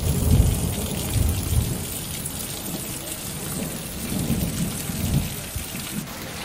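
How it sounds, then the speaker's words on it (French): Heavy rain pours down in a steady roar while low thunder rumbles and rolls through the downpour, close and loud, during a motorcycle ride in Corsica. "Alors là, on se prend The douche. Un orage de malade là"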